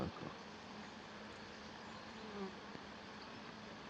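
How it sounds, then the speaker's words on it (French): Hornets buzzing around beehives, a faint continuous droning hum with insects circling close by, steady and unbroken across the whole stretch with no speech. "Aucune abeille, il n'y a que des frelons."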